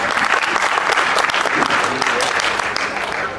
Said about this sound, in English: Give her a huge round of applause, ladies and gentlemen.